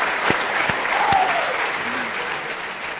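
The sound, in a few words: applause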